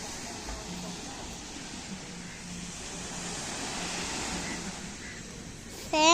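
Steady surf rolling in at Kovalam Beach in Thiruvananthapuram, a continuous broad wash of waves with wind over the microphone, moderately loud throughout with a brief faint sound near the end.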